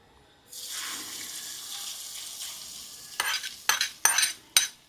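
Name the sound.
tempering (oggarane) sizzling in a pan, stirred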